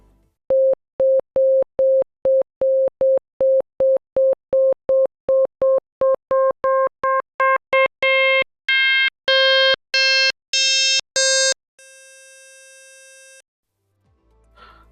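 A rapid series of repeated FM synthesizer beeps, each note growing brighter and more metallic as modulation from one operator into another increases and the tone becomes harsher, ending in a sustained buzzy note.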